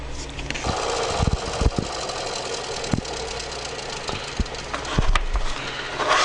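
A saw blade cuts a composite pen tube, a loud continuous mechanical whine and rumble with sharp clicks and knocks scattered throughout.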